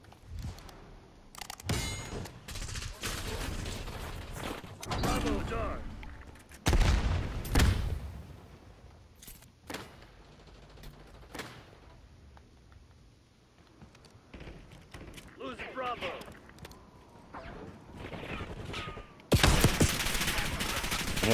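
Marine SP shotgun fire in the video game Call of Duty Black Ops 6, several heavy single blasts with metallic clangs and reload clicks spaced apart, loud then fading into quieter game ambience.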